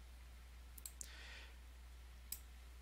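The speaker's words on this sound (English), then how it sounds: "Right click and pick properties." A few sharp, faint clicks of a computer mouse in a quiet room, a quick pair followed by a single click a moment later, heard alone over a low steady hum.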